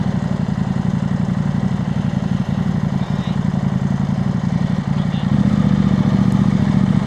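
An adventure motorcycle engine idles and runs near at a steady low throb in Baler, the mechanical drone continuous throughout and getting slightly louder and fuller toward the end.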